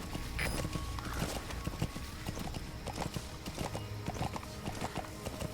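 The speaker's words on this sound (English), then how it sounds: "we can actually use the horse to bypass areas like this" Horse hooves clip-clop in steady rhythm over ground in the video game Metal Gear Solid V: The Phantom Pain. A faint whinny comes early, and the hoofbeats carry on at moderate volume with no talking.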